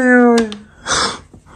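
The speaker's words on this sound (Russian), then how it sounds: "А где кошка? В пакете." A cat carried inside a bag meows up close. It gives one drawn-out, wavering meow followed by a breathy, noisy second cry.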